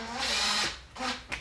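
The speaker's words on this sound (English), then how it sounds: "I will use my impact driver to very, very, very carefully drive the screws into position to hold the speaker in place" An impact driver runs in two short bursts, driving screws to mount a speaker in a component speaker pod for a 2007–2014 Silverado, with a brief sharp tap at the end; close and moderately loud.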